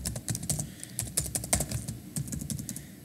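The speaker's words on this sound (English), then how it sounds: "let's type in password again" Rapid, irregular keystrokes on a computer keyboard while a password is entered, a steady run of close, crisp clicks with no talking.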